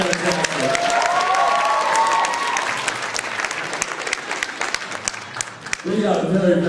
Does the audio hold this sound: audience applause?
yes